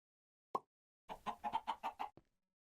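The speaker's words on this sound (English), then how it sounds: "here's 2 chickens" Chickens clucking in the modded Minecraft game Modern Skyblock 3: one short cluck, a pause, then a quick run of about seven rhythmic clucks ending in a brief final one, clean and close with silence around.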